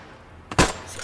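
A single short gunshot in the game Roblox, a sharp close crack rising out of quiet background.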